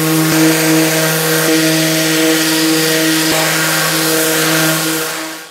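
A power sander hums loudly and steadily across wood, a constant motor drone with a few faint clicks, winding down at the very end.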